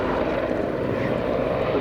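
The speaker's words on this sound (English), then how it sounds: "Showing us something of the manoeuvrability of this Italian-designed and built helicopter" An Italian-designed and built helicopter, in Belgian Air Force service since 1992, performs a manoeuvring display at the RAF Cosford Airshow in 2018, its engine and rotor giving a loud, steady, close roar throughout.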